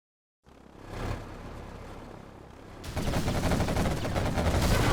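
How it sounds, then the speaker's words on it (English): Heavy rapid-fire quad cannon gunfire in Command & Conquer Generals Zero Hour roars continuously, then grows louder and denser midway through, with no voices. "Quad cannon."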